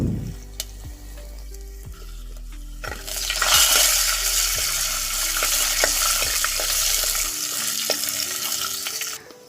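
Peanuts and white sesame seeds fry in a couple of spoons of oil in a pan. A loud, bright sizzle takes hold after a few seconds, with a spoon scraping and stirring through it in repeated strokes.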